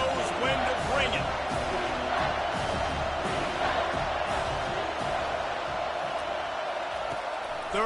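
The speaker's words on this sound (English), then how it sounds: "This crowd knows when to bring it." A college football video game plays a broad stadium crowd roar at a steady, loud level, with a commentator's voice talking over it throughout.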